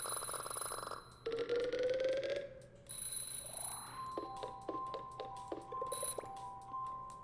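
In a video game, an alarm clock rings out as a series of electronic tones and chirps, rising and repeating beeps in short bursts over a faint low hum, with no voices.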